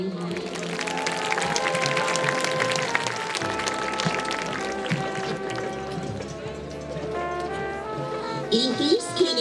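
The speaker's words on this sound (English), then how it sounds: "Please give a round of applause" A crowd applauds a 2023 Miss C Club honoree during homecoming at a Thorsby vs. B.B. Comer high school football game. Steady clapping fills the open-air stands under amplified announcer talk, with a louder swell near the end.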